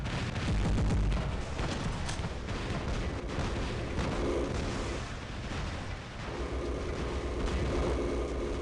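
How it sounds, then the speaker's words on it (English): Robot weapons fire in the video game War Robots, a dense barrage of heavy booms and blasts that rumbles on continuously and loudly, with explosive thuds layered throughout. "look at how my weapons are just popping off"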